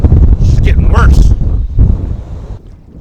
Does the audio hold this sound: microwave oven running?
no